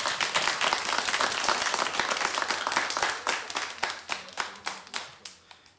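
An audience applauds a child on stage at a children's show, a dense burst of many clapping hands that thins out into scattered, separate claps as it fades.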